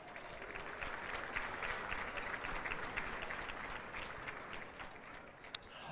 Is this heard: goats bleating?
no